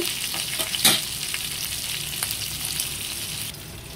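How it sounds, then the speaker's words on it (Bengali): Hilsa fish frying in oil, a steady close sizzle with one sharper stirring clack early on, continuous throughout and without talk. "এখানে আমার মাছ ভাজা হয়ে গেছে।"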